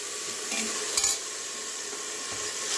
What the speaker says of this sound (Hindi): अब डाल देंगे 1 चम्मच भर के नमक और मिक्स कर लेंगे।